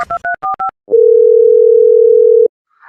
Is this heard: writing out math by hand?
no